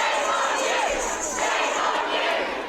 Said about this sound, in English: Crowds chanted "Shame on you" at police who were present.